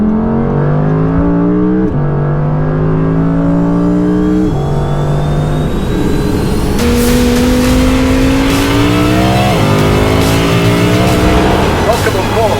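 The Audi R8 RWD Performance Edition's high-revving engine climbs through the gears, pitch rising and dropping at each shift, loud and close from inside the car.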